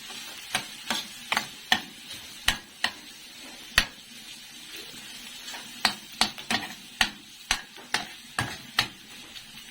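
Ground meat (giniling) frying and browning in a pan, with a soft steady sizzle under a run of sharp, irregular scraping taps as a utensil stirs it, close and clear, no talk.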